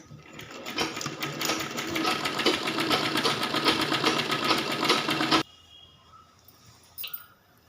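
Close sewing machine stitching umbrella skirt fabric, a fast continuous whirring run of about five seconds that stops abruptly, followed by quiet handling clicks.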